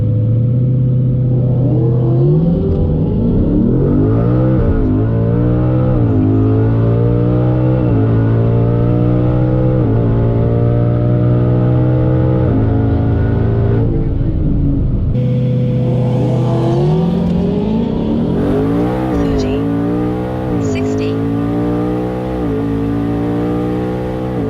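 A twin-turbo 2020 Mustang GT launches down a quarter-mile drag strip, its engine climbing hard through two gear-by-gear rising runs, loud and close inside the car, with a brief drop in between.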